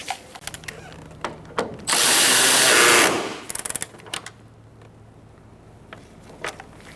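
A power drill whirs in one steady burst of about a second, tightening headlight bolts on a 2014-2019 Kia Soul, surrounded by scattered clicks and clanks of metal parts being handled nearby.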